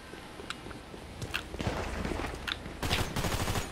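Rapid bursts of gunfire from a GTA V Online firefight, with sharp shots and volleys rising and growing denser over a constant game background, loud and close.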